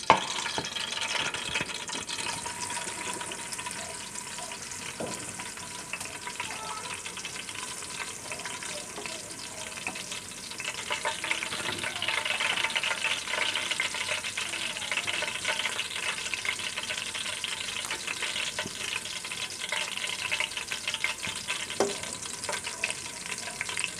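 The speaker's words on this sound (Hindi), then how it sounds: "अब मैं इसमें लहसुन अदरक का पेस्ट शामिल करूँगी 1 टेबल स्पून और इसे मीडियम ब्राउन कर लूँगी" Steady crackling sizzle of a tablespoon of garlic-ginger paste frying in hot oil to medium brown, continuous and close, with occasional scrapes of stirring and no talking.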